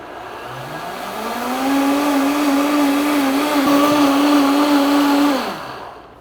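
A blender whirs through a citrus smoothie of oranges and turmeric, its motor climbing in pitch and then holding a loud steady whine for several seconds before winding down, with no voices.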